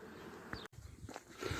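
Honey bees buzzing close by at the entrance of a hive that has just been given a new queen, a faint continuous drone with a brief dropout midway and no talking.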